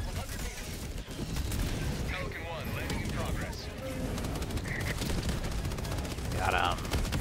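Rapid gunfire from shooting enemies in Helldivers 2, sustained bursts crackling throughout at close range amid other battle noise, with voices talking over it.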